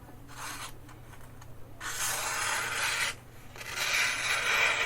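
A knife blade is drawn across a Baryonyx Arctic Fox sharpener, giving smooth, close rasping strokes in several long passes with brief pauses between them, with no voices.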